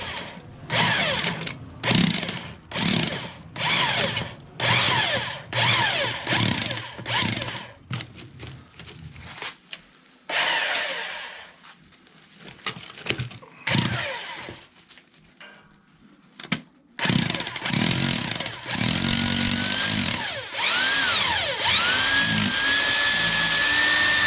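Power drill turning an auger bit into clay in a basement, grinding in repeated short bursts, then a long quieter stretch and a sustained whining run near the end, close and loud.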